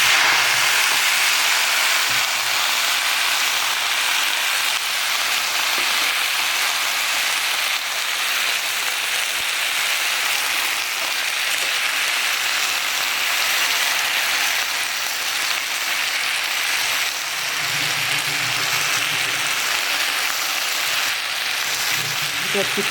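Vegetables hitting a hot pan and sizzling, a loud, dense hiss that fills the whole stretch without letting up, with a voice briefly talking over it.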